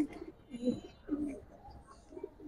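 Silver Pankhi pigeons coo in soft, low, rolling calls repeated in quick succession, faint and close by.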